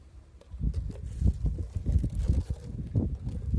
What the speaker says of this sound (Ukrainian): О, вітер.